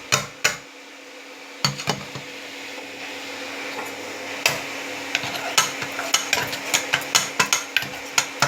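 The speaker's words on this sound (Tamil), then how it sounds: "நல்லா இப்படி கலந்துக்கணும்." A spoon scrapes and taps repeatedly against a vessel while dosa batter mixed with ground mudakathan greens is stirred, with intermittent clicks that grow more frequent over a low steady hum.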